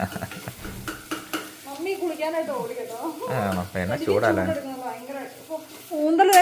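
Pasta being stirred into roasted onions inside a pressure cooker, with a steady scraping, sizzling stir running throughout under a voice speaking over it.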